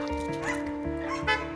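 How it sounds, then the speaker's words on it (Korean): A dog barks and yips several times in quick succession during a behaviour training session at home, close and fairly loud, with a steady tonal hum underneath. "강아지가 짖으면?"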